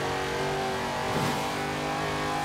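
A car engine droning steadily in the racing game Forza Horizon 4, loud and continuous with a brief swell as it drives on a 90s-themed cops versus racers session.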